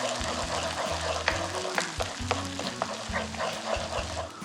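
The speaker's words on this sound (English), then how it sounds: "I will make the scrambled eggs." Scrambled eggs fry and are stirred in a pan beside noodles for an arranged Shin Ramen dish. A steady, loud sizzle carries the scene while close scraping and stirring clatter sounds over it, and no one talks.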